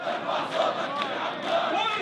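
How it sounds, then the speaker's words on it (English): A large crowd at a rally in Jordan chants slogans in praise of the Al-Qassam brigades, a dense mass of voices rising and falling in rhythmic surges, loud and without a single clear speaker. "The crowd chants slogans in praise of the Al-Qassam brigades, the armed wing of Hamas."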